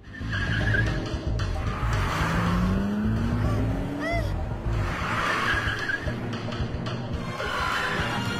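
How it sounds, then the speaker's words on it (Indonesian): Cars in a police chase skid hard, with loud engine roar and long, rising tire squeals over several seconds of continuous close vehicle noise. "Bersama anak buahnya, Komandan Wong berusaha mengejar Archer hingga ia berhasil menangkapnya."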